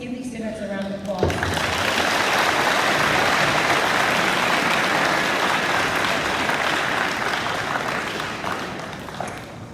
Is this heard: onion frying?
no